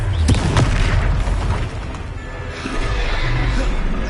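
Explosive blast of the Confringo fire spell in the Hogwarts Legacy video game: a loud booming impact followed by rumbling combat noise, with another burst shortly after amid continuous battle sounds.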